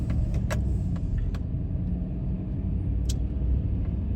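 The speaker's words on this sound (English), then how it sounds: "I think this pickup truck is a pretty good setup." A pickup truck drives through a Florida neighborhood, its steady road rumble and engine noise filling the scene continuously with a few brief sharp clicks and squeaks on top, no voices.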